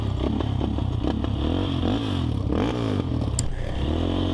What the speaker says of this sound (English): The bike doesn't really like to run in neutral because of the bad connection with the wires.